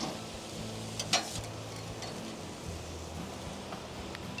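Japanese sweet potatoes and onions sizzle faintly on an outdoor grill at a resort in Kauai, a low steady hiss with a couple of light clinks from a utensil.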